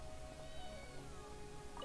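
A cat in a video game lets out a drawn-out meow, heard faintly behind a dense layer of game music and ambient sound for under two seconds.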